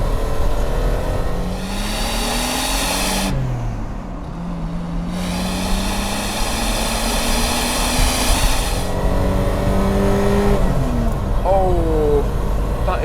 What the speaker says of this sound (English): I'm going to drop it down a cog, and let's see if that BMW Straight 6 magic is there